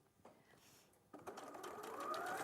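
A sewing machine stitches forward through fabric, starting with a brief whir, then a quick pause, then a steady fast mechanical running that grows slightly louder, with no talk.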